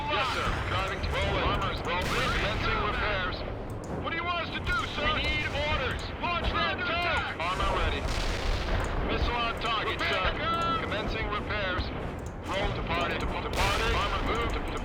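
Tank and missile fire in the World in Conflict: Soviet Assault video game, with repeated booming shots and blasts crashing through the mix while voices talk over the battle.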